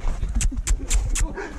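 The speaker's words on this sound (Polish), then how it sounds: "ale odważny pies" Dog on a Podlasie farm giving several short, sharp barks and yips in quick succession, close by and fairly loud, with someone talking over and between them.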